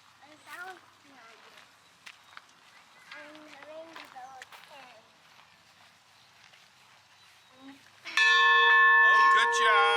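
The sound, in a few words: train bell ringing on a railroad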